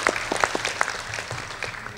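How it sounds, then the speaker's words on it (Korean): Audience applause at a panel discussion on junior colleges, a modest round of scattered claps from a seated crowd in a hall, fairly steady and unaccompanied by speech. "큰 박수 한번 좀 부탁드리겠습니다"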